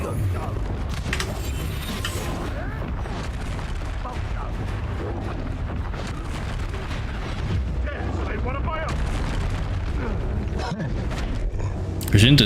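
Spell blasts and combat noise from the Confringo fire spell in the video game Hogwarts Legacy, a continuous loud barrage of crackling bursts and booms with layered battle sounds throughout.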